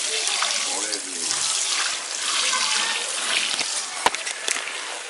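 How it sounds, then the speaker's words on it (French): Steady hissing spray of water poured over freshly laid mulch in a home garden, continuous and close, with a couple of small knocks near the end. "Je vais arroser là-dessus."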